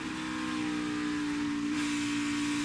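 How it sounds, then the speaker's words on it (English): A NASCAR Xfinity Series race car runs through qualifying at Kentucky. The engine drone holds steady, dips slightly as the throttle eases, then comes back on, loud and continuous with no talk. "you could hear he had to let the car roll a little bit more right there"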